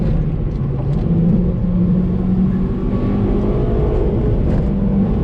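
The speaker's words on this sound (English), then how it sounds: "Let that VTEC sing, boy!" A Honda Civic EP3 Type R hot hatch drives under load, its engine a steady, loud, droning rumble heard from inside the cabin, with faint rising pitch but no distinct sharp rev peaks.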